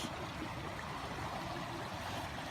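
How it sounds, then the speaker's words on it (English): Creek water flowing on the Pinhoti Trail, a steady close rushing and gurgling wash that fills the whole moment without pause. "This is, in my experience, the first creek I've had to take my shoes off for."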